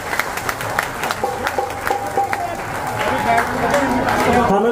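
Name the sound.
audience applause for Baba Shyam at kirtan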